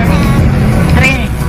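A boat motor drones steadily up close, a loud continuous low rumble on an island outing, with a voice speaking briefly over it.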